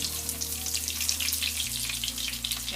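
Eggplant slices for begun bhaja fry in a pan with a steady, close crackling sizzle and a low hum underneath, continuous and even throughout, no voices.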